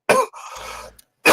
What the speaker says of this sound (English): I'll get back to you when I stop dying from coughing.